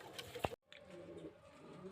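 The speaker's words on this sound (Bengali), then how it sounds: "আজকে কিছু পায়রা দেখাবো মুর্শিদাবাদের গিরবাজ লাইনে পায়রা" Girbaz-line pigeons from Murshidabad cooing in a loft, a short soft coo close by followed by a brief cut and low background murmur.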